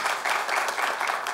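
A studio audience at a sketch comedy show breaks into a dense, continuous wash of applause that holds at an even level through the short stretch.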